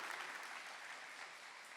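A church congregation applauding during a morning service, a steady broadband clapping that fills the whole moment at an even level without pause.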